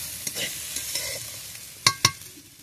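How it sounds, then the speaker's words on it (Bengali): Pumpkin peel and potatoes frying in a pan are stirred with a soft sizzle, then two sharp knocks ring out close together near the end. "এভাবে মাঝে মাঝে ঢাকাটা খুলে নেড়ে নিতে হবে"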